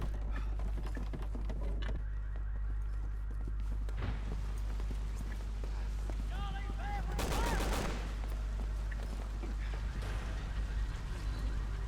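Gunfire in the zombie-shooting video game Resident Evil 6 cracks out in scattered single shots, then a denser burst mid-way, over a low droning game background.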